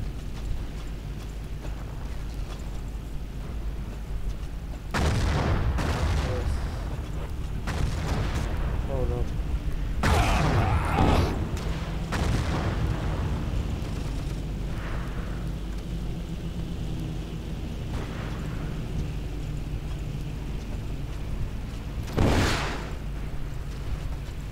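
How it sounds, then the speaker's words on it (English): Rocket launcher blasts and explosions in the video game Battlefield 1942 boom repeatedly over a steady rumbling battlefield background, with several loud, sharp bursts spaced seconds apart. "I'm just gonna use the rocket launcher to destroy everybody"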